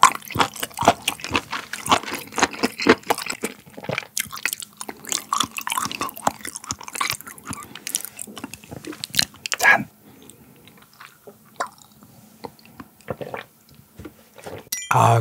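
Close, wet chewing and biting of Korean beef intestines (hanwoo gopchang), dense and rhythmic for about ten seconds, then sparser, squishy mouthfuls.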